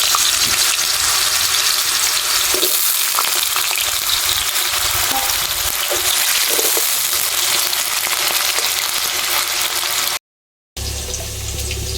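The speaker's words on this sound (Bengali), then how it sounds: "এবারে বড়া ভাজার কড়াইতেই এরকম ডুমো ডুমো করে কেটে রাখা আলু ভেজে নেব" Diced potatoes fry in a wok, a steady loud sizzle running throughout with occasional soft stirring knocks, cut by a brief gap near the end.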